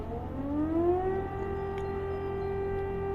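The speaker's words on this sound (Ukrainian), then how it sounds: "У нас повітряна тривога, друзі." An air raid siren wails loudly and close by. Its tone rises in pitch over the first second, then holds a steady, sustained howl.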